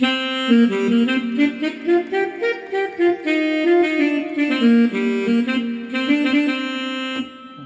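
A Korg X5 keyboard playing an alto saxophone voice, a reedy melodic line over sustained chords and a steady backing rhythm, no talking.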